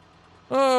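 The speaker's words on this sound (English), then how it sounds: "Interesting sound on this tractor." Tractor engine in Farming Simulator 19, kicking in abruptly halfway through as a loud, steady harmonic drone that holds to the end after near-silence.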